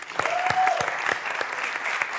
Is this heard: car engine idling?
no